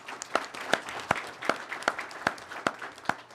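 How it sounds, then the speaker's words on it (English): An audience at a board of education business meeting claps, a faint thin patter of scattered hands with sharp individual claps standing out, steady for a few seconds. "Please join us in a round of applause for our secondary and Oak Ridge principals."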